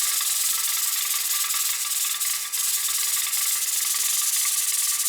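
A pressure canner's weighted regulator jiggles at 10 pounds pressure while English garden peas are processed on a stovetop burner, giving a steady, loud hissing rattle that runs continuously with no talk.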